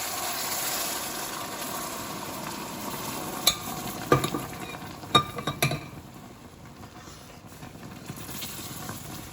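Sugar goes into roasted whole-wheat flour for kada prasad halwa in a pan, giving a low, soft frying hiss with a few sharp spoon clinks and scrapes in the middle. It is quiet and has no talk.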